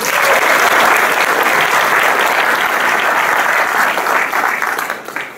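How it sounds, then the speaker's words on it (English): A crowd at an ACLU Bill of Rights Day event applauds steadily and loudly for about five seconds, the clapping thinning out toward the end. "So let's give Aundre a round of applause."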